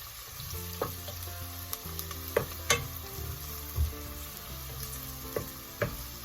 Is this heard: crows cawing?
no